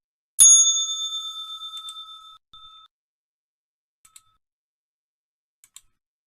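A single struck bell rings out loud and clear, its bright tone decaying with a slight beating pulse for about two seconds, followed by a short second ring and a few faint ticks.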